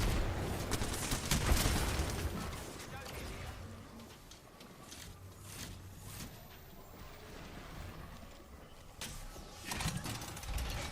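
Gunfire and grenade blasts in an Apex Legends match, scattered bursts and thumps of varying loudness under a commentator talking continuously.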